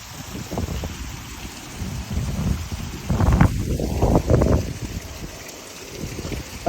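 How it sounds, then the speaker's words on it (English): Strong wind gusts roar and buffet loudly in uneven surges, with rumbling bursts like a microphone being battered outdoors. "Mighty windy today."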